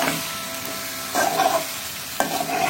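A pomfret fish of about 300 grams laid into a hot pan, giving a loud close sizzle that surges twice as it settles, with a brief stir and no talking.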